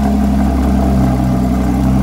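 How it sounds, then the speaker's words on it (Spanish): A Porsche 911 GT3 992 with sport exhaust idles after a cold start inside an enclosed space, a loud, steady, deep engine drone with firm low harmonics, no voices over it. "Y qué mejor que escuchar su cold start en un lugar encerrado."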